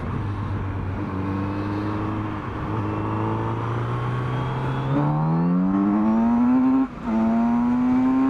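A Kawasaki Z900RS motorcycle revs hard on a cool-weather road ride, its engine note climbing steadily through the gears with a brief dip at a shift before pulling up again, loud and close with wind rush underneath.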